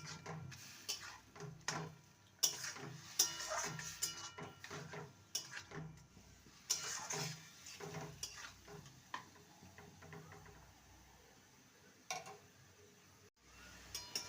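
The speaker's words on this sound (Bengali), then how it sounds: "গ্যাসের ফ্লেম হাইতে রেখে ভালো করে নেড়ে নিতে হবে" Grated bottle gourd is stirred in a pan over a high gas flame, with a soft sizzle under repeated scraping and clinking of the spatula against the pan, steady and fairly quiet throughout.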